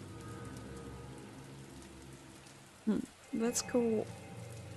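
Steady rain falls in the indie horror video game Invitationem, a constant soft hiss throughout, briefly overlaid by someone speaking a few words near the end.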